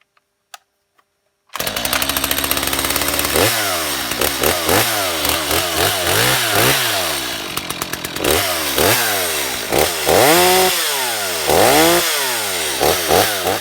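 A Stihl MS250 chainsaw fitted with a new replacement carburetor starts and runs strongly, its engine revved up and down repeatedly in loud, close bursts with clean returns to idle, no voices present.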